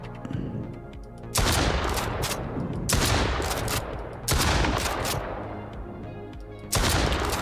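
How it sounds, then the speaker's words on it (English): Rapid gunfire from an indie horror video game, sustained bursts that come in three or four loud waves with brief gaps between them, close and dominant throughout. "At least the gun actually kicks."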